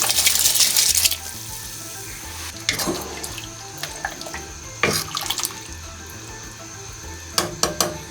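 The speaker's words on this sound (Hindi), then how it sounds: "बॉईल आ गया, अब मैं इसमें चावल ऐड कर दूँगी" Rice is tipped into a pot of boiling water for sweet deghi zarda, a brief rushing splash at the start, then the bubbling water carries on with scattered small splashes and clatters.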